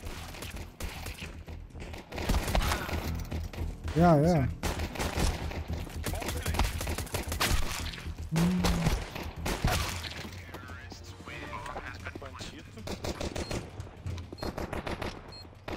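Bursts of rapid gunfire ring out in a round of Counter-Strike 2, several sharp volleys and single shots spread across the clip, with people talking over the action.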